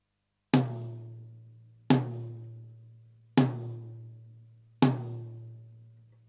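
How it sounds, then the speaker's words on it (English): Four evenly spaced tom drum strikes with the heads tuned a fourth apart, each a sharp attack followed by a long, low, ringing decay, played alone in a quiet room. "I want to see how this drum sounds generally when it's tuned to the same pitch but with different head combinations."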